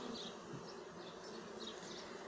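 Honeybees buzzing steadily at a hive, a drone among the workers, a dense continuous hum that stays close and even throughout with no voices.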